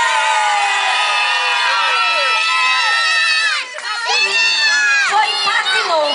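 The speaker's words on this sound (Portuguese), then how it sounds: "Vamos agora o aplauso para a China." Cheering and shouting from a lively crowd of children and adults at a Father's Day party in a Brazilian setting, loud and sustained, with excited high voices rising and falling throughout.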